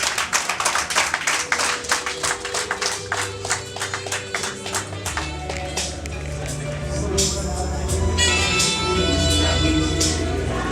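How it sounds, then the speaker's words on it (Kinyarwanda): Clapping at a Rwandan traditional engagement and dowry ceremony as the couple greets their parents: steady, rhythmic hand claps for several seconds, followed by a fuller, sustained stretch of music and crowd sound. "amumpera amashyi menshi cyane asuhuza ababyeyi"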